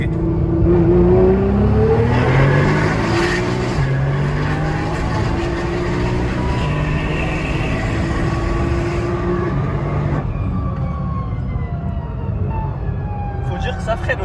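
Nissan GTR with over 1000 bhp accelerating hard, loud engine roar climbing through rising pitch sweeps with quick shifts, sustained from inside the car, with people talking over it.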